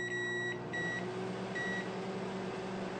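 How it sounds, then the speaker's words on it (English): A microwave oven running with a Potato Express cooking bag inside, a steady low hum with faint electronic beeps near the start and again partway through. "let's just pop it in the microwave and let's check it out"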